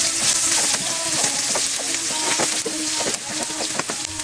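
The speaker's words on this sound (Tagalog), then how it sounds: "Ilalagay na po natin yung sibuyas at yung luya." Onion and ginger hit a hot frying pan with seasoning for chicken pastil, giving a loud, steady, close sizzle with faint stirring scrapes throughout.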